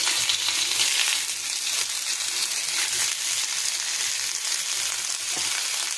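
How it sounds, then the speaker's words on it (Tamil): Chayote (chow chow) pieces sautéing in a hot pan for a chutney, a dense, even hiss of frying that runs steadily throughout with faint clinks of stirring, close and without speech. "சவுச்சோ பீஸ் வச்சுருக்கோம் இல்லை, அதை போட்டு வதக்கணும்"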